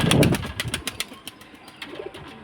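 A male and female pigeon kept for sale make a close burst of fluttering and rustling, followed by soft, scattered coos that fade off toward the end.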